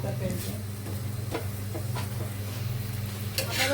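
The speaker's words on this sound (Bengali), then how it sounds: "চারটা ডিম ভেজে নিচ্ছি আমি" Four eggs fry in a pan at home, giving a soft, continuous sizzle with occasional scrape-and-stir clicks from a utensil, heard close up under a light background hum.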